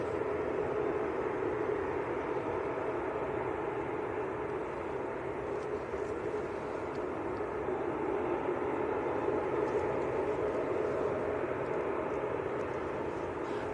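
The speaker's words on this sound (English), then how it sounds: "Is that A380 taxiing a bit fast, Tom, or is that me?" An Airbus A380 taxiing at Manchester Airport, a continuous distant jet whine and broad rushing hum holding steady throughout at moderate level.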